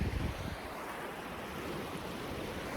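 The Virgin River in Virgin, Utah, flowing well, gives a steady broadband rush of moving water with some wind noise on the microphone, continuous and fairly even throughout.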